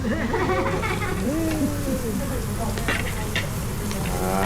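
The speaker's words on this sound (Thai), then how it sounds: "อันนี้เราย่างนี่เราย่างกุ้งเลยนะครับผม" Shrimp grilling on a Thai mookata pan gives a constant close sizzle and crackle, while voices chatter over the frying throughout.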